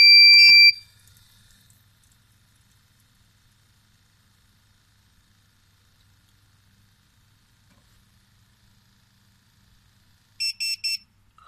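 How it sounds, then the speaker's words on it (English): A US208MA flow meter gives a shrill electronic alarm when no flow is detected: one loud beep at the start, then near silence, then a short burst of rapid beeps near the end. "When there is no flow, alarm rise."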